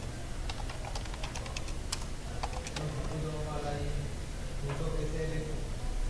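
Someone types on a computer keyboard while writing Java database code. The keystrokes come as quick, close, uneven bursts of clicks, with a voice present in the background.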